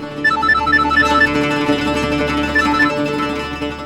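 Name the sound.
phone ringing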